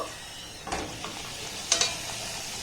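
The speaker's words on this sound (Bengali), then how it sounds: "লো করে এটাকে ভেজে নিতে হবে এইভাবে উপর থেকে একটু তেল দিয়ে দেব" Flower-shaped pitha shallow-fries in oil on a low flame, a steady soft sizzle with a couple of brief scraping clicks from a utensil.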